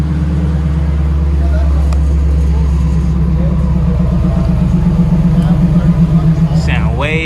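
Auction-bought Camaro SS with a newly fitted exhaust idling, a deep steady rumble close by with a faint rise near the end, under no clear talk.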